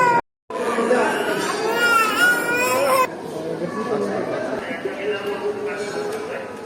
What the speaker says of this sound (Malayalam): അവളെ തണുപ്പൂട്ടം കരയാണ്, ഒച്ച ഉണ്ടാക്കാണ്.